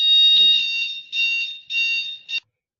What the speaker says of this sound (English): we just briefly paused because we had a fire alarm, but it was a false alarm